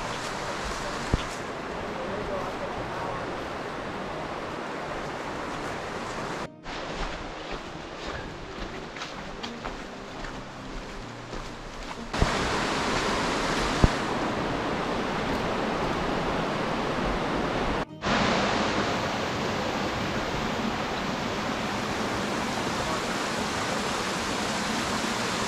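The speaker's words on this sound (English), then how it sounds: "This whole trail just kind of follows right next to the river." Steady rushing water of a river beside a trail in Great Smoky Mountains National Park, a continuous broad wash with occasional faint footsteps and no talking.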